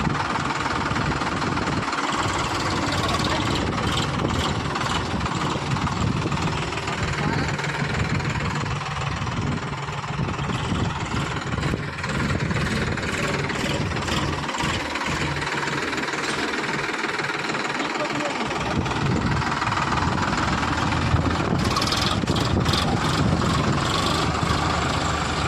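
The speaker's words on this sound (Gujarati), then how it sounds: "જો આપણે ટ્રેક્ટર હકાલી લીધું છે ને તમે જોયું." A farm tractor engine runs continuously at close range with a steady, loud, knocking diesel rumble and vibration, unchanging throughout with no talk over it.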